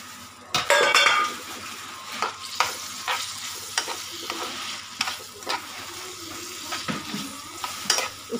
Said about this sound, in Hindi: अब मैं इसमें जो मैंने चने उबाले हुए हैं वो डाल देती हूँ।